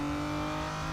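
Fully upgraded car's engine in the Real Racing 3 video game during a V12 track day event, a sustained high-revving whine with strong steady tones, loud and continuous.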